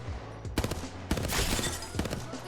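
Vantage gunfire in Apex Legends, several sharp shots cracking in quick succession with echoing tails and a dense burst of fire in the middle, loud and close over game ambience.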